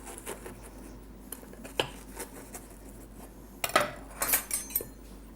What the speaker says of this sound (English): With a sharp knife, just go round the edge of the lip and then cut a V out.